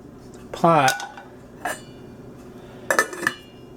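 A metal pot used while cooking breakfast clanks and scrapes against the stovetop or utensils, with three distinct bursts of clinking and a faint murmur between them.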